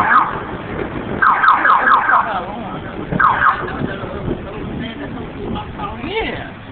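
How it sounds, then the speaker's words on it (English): Several car alarms wail and warble in repeating electronic cycles during a June thunderstorm in Rancho Cordova, loud and overlapping at first, then fading, while people talk over them. "All these car alarms going off."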